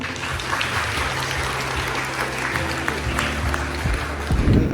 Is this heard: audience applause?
yes